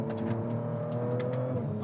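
A 2019 Audi RS4 Avant engine accelerates in a steady, close, sustained drone with strong low harmonics, and no one speaks.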